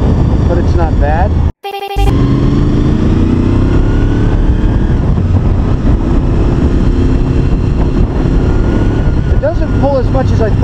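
A Honda VFR800 motorcycle engine revs and pulls on the road, a loud continuous drone with rising pitch sweeps as it accelerates, briefly cut out by a short dropout near the start, with a voice speaking over it.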